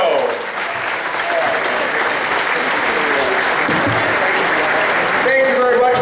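Audience at the 2011 Geneva Sports Hall of Fame induction breaks into loud, sustained applause that fills the hall for several seconds before a voice begins at the end.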